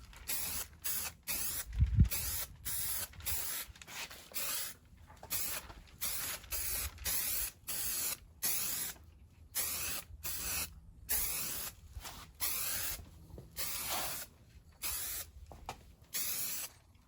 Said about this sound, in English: so I've got the first coat of primer